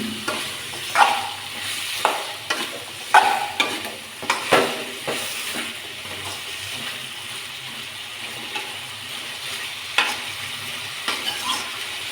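Curry is stirred and fried in a pan: a spoon scrapes and clinks in irregular bursts over a steady sizzle, loudest in the first few seconds and then settling into a quieter simmer with occasional scrapes.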